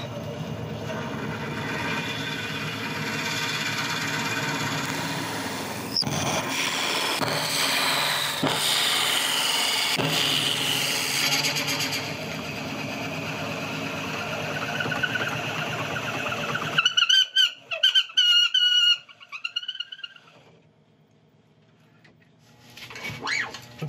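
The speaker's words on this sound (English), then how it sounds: "now it's a case of turning it down bit by hand" A wood lathe turns a yew and honeycomb resin blank with a loud, continuous rough scraping and rumble, then stops and leaves scattered knocks and taps that fade toward near silence.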